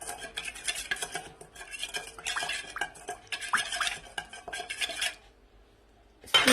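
Ingredients with about a tablespoon of olive oil are stirred in a pot for a Moroccan baked fish fillet tagine with vegetables, giving a steady run of close scraping and clinking for about five seconds, then a pause and a final burst of clatter.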